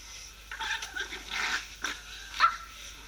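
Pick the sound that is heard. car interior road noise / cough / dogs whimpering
dogs whimpering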